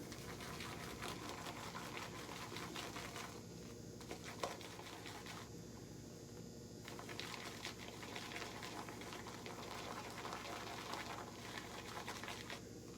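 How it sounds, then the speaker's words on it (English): Shaving brush whipped fast and steadily around a bowl of soap lather with a little water, giving a continuous wet, frothy churning and squishing close up, with brief lulls in the stirring and no talking. "whipping it around, and you can see how fast that starts to come up."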